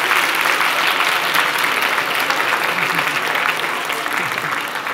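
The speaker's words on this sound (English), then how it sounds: "that's easy claps," A room full of international students clapping steadily at a UCL talk, a dense, even burst of applause that holds throughout and tapers slightly at the end.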